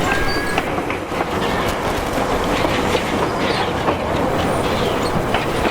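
Vintage steam train of the Bay of Islands Vintage Railway at Kawakawa running along the track, a steady loud rolling rumble with rhythmic wheel clatter throughout and no voices over it.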